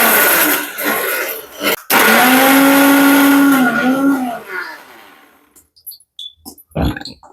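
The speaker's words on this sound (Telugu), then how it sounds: "వేసేసి అగా సాల్ట్ కారం పొడి వేసి చెక్క లవంగా జీలకర్ర కొద్దిగా అన్ని మిక్సీ పట్టుమా" An electric mixer grinder whirs loudly on salt, chilli powder and whole spices, pitch sliding as it runs, then cuts off, leaving a few faint clatters and taps.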